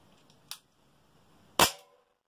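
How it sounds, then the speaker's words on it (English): A Tokyo Marui Ruger LCP compact gas blowback airsoft pistol fired through a chronograph: two sharp, close pops, the second louder, in otherwise quiet surroundings. "what I'm going to do now is run it back through the chrono and see what the numbers are saying"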